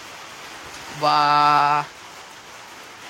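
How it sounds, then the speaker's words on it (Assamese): Heavy rain falls steadily after a hot spell, with a light breeze, as an even, close hiss throughout; a short voiced tone rises over it briefly midway. "সম্পূৰ্ণ বইল বৰষুণ দিছে দেই"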